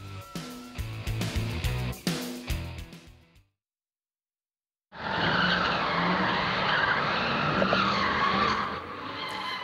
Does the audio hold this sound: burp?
no